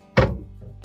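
A soft-close hinged cabinet door in a motorhome kitchen shuts once with a single close, muted thunk, then a brief low damped settle.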